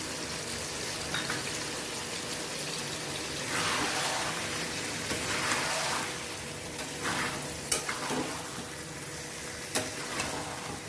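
Mutton pieces frying with a paste of cumin, ginger, garlic and onion, a steady hiss and sizzle under repeated stirring scrapes, a few sharp utensil clinks against the pan.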